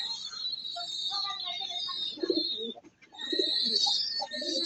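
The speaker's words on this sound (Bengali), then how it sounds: "আর এইগুলো হচ্ছে আমার থরের কবুতর" Pigeons kept at home, including silver, army and khaki pairs, give soft low coos in short bursts under a steady high-pitched background hiss, with a brief dip near the middle.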